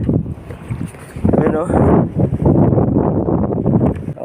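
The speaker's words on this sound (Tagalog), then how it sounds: "lakas ng hangin" Strong wind buffets the microphone on a lakeside fishing trip with an ultralight rod, a loud broadband rumble that swells after the first second and holds steady while someone talks over it.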